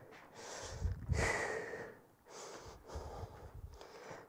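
Deep breathing during a rest break in a fitness workout, close and fairly faint: slow inhales drawn in through the nose alternating with longer, airy exhales out through the mouth, several cycles with no talk.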